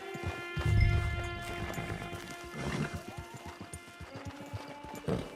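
Horse hooves clip-clopping at a run through the open country of Red Dead Redemption 2, a steady rhythmic patter of hoofbeats with a brief whinny-like swell near the start, carrying on at moderate volume without talk.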